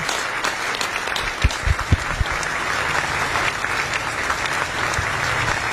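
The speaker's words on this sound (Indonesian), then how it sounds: "Tepuk tangan buat Edwin Samosir." Steady applause from an audience at a Batak-language comedy show, a dense wash of clapping lasting throughout with a few louder hand claps standing out near the start.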